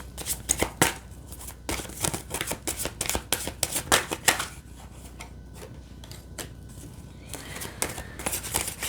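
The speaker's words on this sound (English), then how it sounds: "let's pull out some more cards" Tarot cards are shuffled and pulled from the deck by hand, giving close, crisp riffling bursts that are quick at first and then turn into softer, more scattered card rustling.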